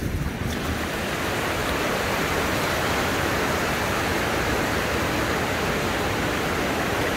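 Ocean waves wash steadily onto a beach shore at an early-morning walk, a continuous, loud roar of surf with constant hiss and some wind, no speech, filling the whole stretch.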